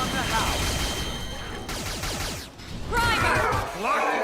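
Gunfire in the video game Xenoblade Chronicles X, dense rapid bursts of shots and impacts mixed with whooshes and combat effects, loud and continuous.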